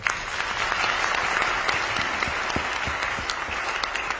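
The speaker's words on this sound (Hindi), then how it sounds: "मोदी केयर के लिए जोरदार तालियां।" Audience applause at a Modicare business event, a dense burst of many hands clapping that holds steady and fairly close throughout, with no speech over it.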